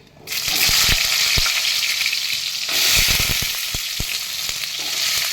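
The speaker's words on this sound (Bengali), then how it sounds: "একটু আগে আলুটা ভেজে নেবো" Potato pieces hit hot oil in a pan already seasoned with bay leaf, dried red chilli and nigella seeds. A loud, hissing sizzle starts almost at once and holds steady, broken by sharp knocks and scrapes of a spatula stirring.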